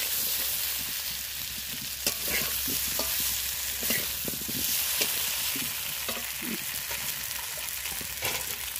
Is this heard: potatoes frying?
yes